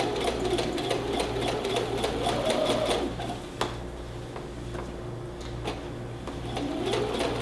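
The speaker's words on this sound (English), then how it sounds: "And you're just doing a regular length stitch." A sewing machine back-stitches a shirt pocket, its fast needle hum running in short start-and-stop bursts at close range with faint bird cooing in the background.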